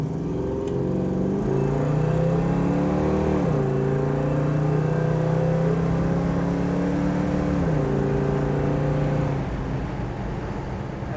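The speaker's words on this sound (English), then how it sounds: "It bangs through the gears real nice." A 1969 Dodge Super Bee with a 383 V8 pulls hard through the gears, its engine note rising steadily, dropping at each shift near three and eight seconds, then climbing again, loud and close.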